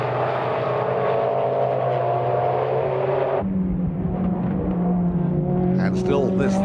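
Race cars including a Porsche and an Ascari Ford scream past at Silverstone during a 1995 sports GT race, a loud sustained engine roar that drops in pitch midway as one car passes, with commentary over it.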